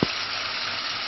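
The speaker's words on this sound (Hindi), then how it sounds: "कलेजियों को हम अच्छी तरह भून लेंगे।" Mutton liver frying with spices in a pan, a dense, steady, loud sizzle throughout, opening with a brief knock, close and uninterrupted by voices.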